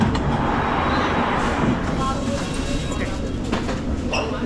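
Inside a busy London Underground Hammersmith and City line train to Barking, a loud continuous rumble and rattle of the carriage runs throughout, with faint voices and some scattered clicks and squeaks.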